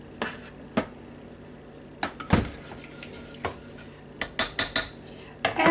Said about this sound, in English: I'm supposed to put just a little bit of this mixture in the bottom first.